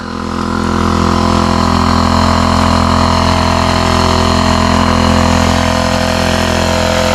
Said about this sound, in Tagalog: Kusog yung makina?